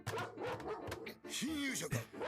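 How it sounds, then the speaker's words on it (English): Dog giving short barks and yips mixed with higher whimpers, heard under and between people talking. "Whose dog is that?"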